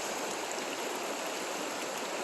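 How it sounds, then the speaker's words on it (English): River rapids rush steadily near waterfalls in the Mattawa area, a loud, continuous broadband roar of churning water close by with no voices. "this is the rapids that I thought were down at the bridge"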